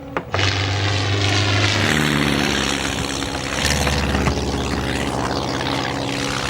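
A propeller plane flies low overhead, loud and droning. Its engine tone shifts in pitch as it passes and fills the whole span, with no voices over it.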